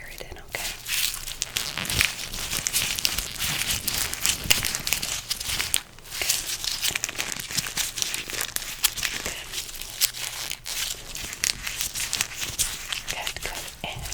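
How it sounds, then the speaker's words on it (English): Crinkly bubble gum wrappers are crumpled close to the ear in a steady, dense rustle that lasts throughout, with faint whispering underneath. "why don't I test it with these crinkly little bubble gums"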